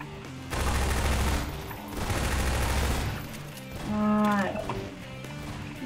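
Bursts of automatic gunfire from a first-person shooter, Half-Life 2 Episode One, crackle in sustained volleys with short gaps, loud and close, followed by a brief electronic tonal effect.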